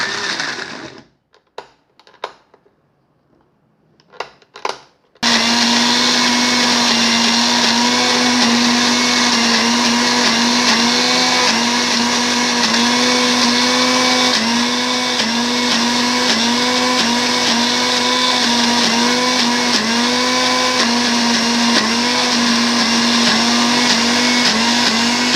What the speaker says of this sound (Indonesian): Kita tinggal blender aja.